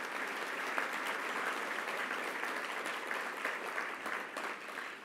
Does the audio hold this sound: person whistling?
no